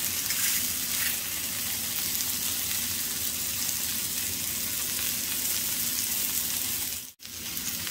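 Green beans and mushrooms sizzle steadily in a pan, seasoned with salt and pepper, a continuous close frying hiss with soft stirring, broken by a brief silence near the end.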